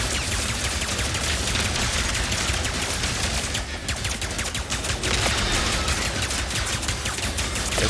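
Sustained rapid gunfire from a Ratchet and Clank video game, a loud dense barrage of automatic shots with a brief lull midway, continuous throughout without speech.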